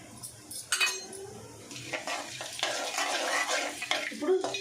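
Whole shahi jeera, black peppercorns, cardamom pods and a marathi moggu bud fry in hot oil for a chicken gravy, giving a steady close sizzle mixed with spoon scrapes and pan clatter.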